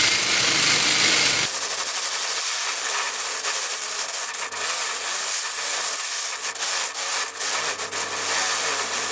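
A sanding mop bears down on a 2x4 under a sustained, loud whirring grind that holds steady for several seconds, the motor straining against the wood, close up with no talk.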